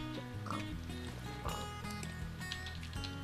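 Several Minecraft pigs oink in quick bursts among other game noises, with a steady tonal hum and watery sounds running underneath.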